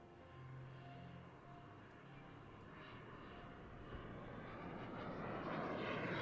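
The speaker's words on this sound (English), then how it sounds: "the Foxjet twin-engine jet sailplane with more power, more speed, and more aerobatic capability than any other sailplane" A Foxjet twin-engine jet sailplane flies at an airshow, its steady jet roar building gradually from moderate to louder over several seconds, with no voices over it.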